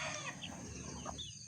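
Brooding hens and other chickens clucking softly nearby in a backyard coop, low muttering calls over a steady background hum, faint and continuous.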